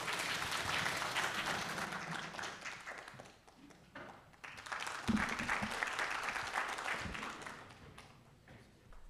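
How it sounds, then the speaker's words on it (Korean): An audience applauds a professor stepping up to give a lecture at an academic presentation, with steady, fairly distant clapping that dips briefly midway and then swells again. "큰 박수로 맞이해 주시기 바랍니다."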